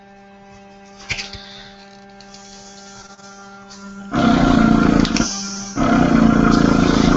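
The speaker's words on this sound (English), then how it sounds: "you'll hear when the air hits, it makes a different sound." Craftwell eBrush marker airbrush, new out of the box, with the marker nib being adjusted: a steady motor hum runs throughout, then the air blast hits as a loud rushing hiss in two bursts, separated by a brief break.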